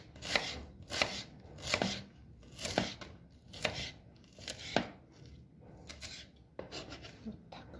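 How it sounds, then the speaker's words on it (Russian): Knife chopping onion on a board while cooking Armenian tatar boraki: a steady series of about a dozen crisp, close cuts at an even rhythm, with no talk. "Слишком мельчить лук не надо."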